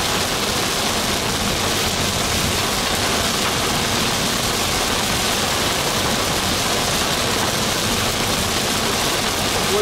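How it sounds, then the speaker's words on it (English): Hail pelting down during a Texas tornado storm chase, a dense, steady hiss and patter of ice on surfaces and a vehicle, loud and continuous throughout without pauses. "Back in a little bit of hail."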